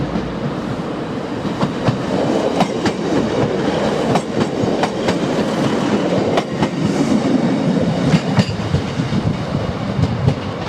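A train pulling out of a station in East Anglia, its steady loud rumble running throughout with repeated rhythmic clickety-clack of wheels over rail joints, close by and with no voices.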